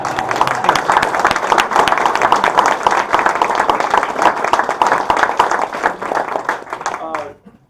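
Dense applause from a crowd, sustained clapping for several seconds with some voices mixed in, then fading out abruptly.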